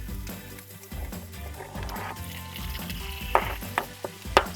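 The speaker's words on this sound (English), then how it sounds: "Okay, so we're gonna add that tomato." Tomato added to a hot pan for a spicy veggie scramble sizzles softly while a utensil stirs, ending with a few sharp scraping taps against the pan.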